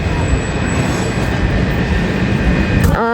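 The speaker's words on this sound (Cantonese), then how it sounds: "我哋而家就搭呢個高鐵啦" A high-speed train at Bukhara railway station in Uzbekistan: a steady, loud broadband rumble of rolling stock holds throughout, with a faint sustained whine above it and a brief rising tone near the end.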